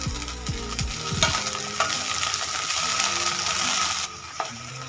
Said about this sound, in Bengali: পাপড়িগুলো আলাদা করে নিয়েছি, দিয়ে দিলাম। ভেন্ডির সাথে ভেজে নেব।